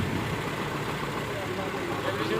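Tractors working a potato field on a farm: a continuous, close engine drone, loud and even throughout, with no breaks.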